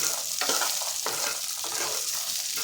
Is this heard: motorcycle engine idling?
no